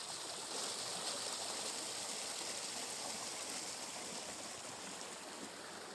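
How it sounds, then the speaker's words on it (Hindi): A stream along a remote route at Bolan Kaboi in Balochistan flows with a constant broad rushing wash, faint and unbroken throughout, with no voices. "ताकि आप लोगों को पानी की आवाज़ सुनाई दे और आप लोग भी इंजॉय करें"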